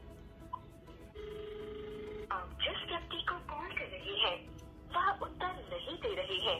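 A phone rings repeatedly without being picked up, a steady electronic ringing tone with short pauses, heard at moderate volume.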